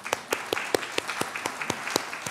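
Audience applause at an art exhibition opening program, sharp, fairly sparse claps in a quick, uneven rhythm, heard close and with no voices over them.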